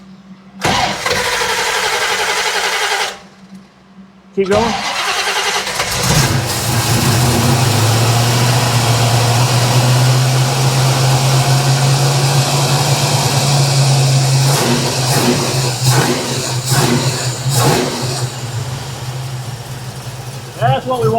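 A 1967 Chevrolet Camaro V8 is cranked, briefly falters, then catches and runs loud and close, with a steady rumbling idle and several sharp revs toward the end, while people talk over it.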